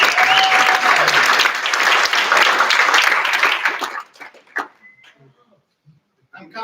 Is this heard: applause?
yes